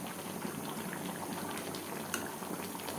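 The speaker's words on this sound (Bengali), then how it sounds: "দেখুন ফুটছে" Rui posto, a Bengali fish curry with poppy seed paste, boiling in a pan: a steady, dense bubbling and crackling simmer, close and fairly quiet, alone without talking.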